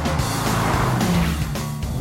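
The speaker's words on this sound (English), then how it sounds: "can Ben's 370Z finally steal some thunder from the German cars?" Nissan 370Z on a fast lap, engine roaring loud and close with tires squealing and skidding throughout, a continuous strained howl that surges and shifts.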